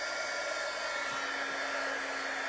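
A hair dryer blows steadily to dry paint on a beach sign, a constant, close, whooshing roar with no pauses.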